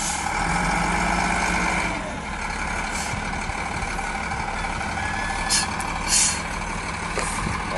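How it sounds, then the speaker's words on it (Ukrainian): A road grader's engine labors on a hump, a continuous heavy diesel rumble that holds steady with a couple of brief louder surges near the end. "Даже грейдер со своими колесами не тянет бугор."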